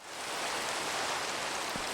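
Steady hiss of rain falling in the modded Minecraft pack All The Mods 10, an even wash of sound that fades in at the start and then holds constant, with no talking over it.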